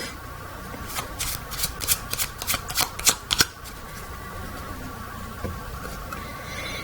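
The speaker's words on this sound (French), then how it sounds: "même le spectateur peut mélanger les cartes" A deck of playing cards shuffled during a magic trick gives a run of quick riffling bursts, close and crisp, then fades to quiet room tone.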